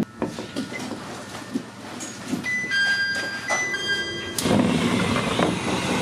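A JR East train pulls into Hamakawasaki Station, the end of the line, with a low rolling rumble, clunks and sustained squealing brake tones that build toward the end, heard up close without speech.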